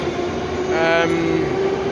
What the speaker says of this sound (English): The trains do run pretty smoothly.